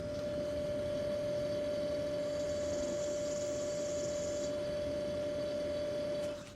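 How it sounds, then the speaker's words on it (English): A Bodegacooler portable electric cooler fridge freezer's compressor runs right beside the microphone outdoors, giving a steady, unbroken hum with a constant tonal whine, holding level until it tapers at the very end. "We're just set the microphone next to the compressor."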